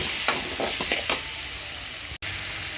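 Maggi noodles with masala being stirred in a frying pan, a few soft scraping strokes over a steady low sizzle, close and alone, ending with a brief cut.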